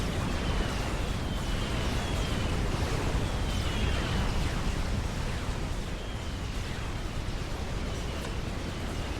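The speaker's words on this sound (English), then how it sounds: "going after Ajax's ships in a big way with a massive torpedo bomber" Massive torpedo bomber attack on ships in the real-time strategy game Supreme Commander, a dense, steady roar of rumbling explosions and blasts rolling on continuously, loud and unbroken.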